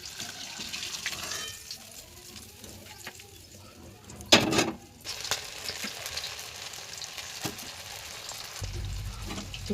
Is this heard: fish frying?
yes